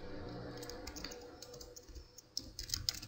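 Typing on a computer keyboard during a PHP programming lesson: quiet, close key taps, sparse at first, then a quicker burst of clicks near the end, with no talking.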